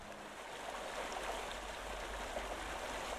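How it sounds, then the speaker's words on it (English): Steady loud rush of flowing water in the video game My Lovely Empress, a continuous noisy wash with faint bubbling, heard alone without voices. "The water is so loud."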